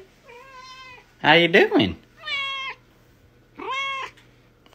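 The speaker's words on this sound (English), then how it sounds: "I'm gonna pet my cat's hair the wrong way and see how he reacts." A cat meows repeatedly while being petted against the grain of its fur, giving several drawn-out, complaining cries close to the microphone, with someone speaking briefly between them.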